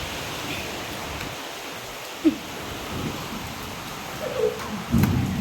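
Heavy rain falls outdoors as a steady broadband wash of noise, with a brief knock and some low rumbling swells near the end.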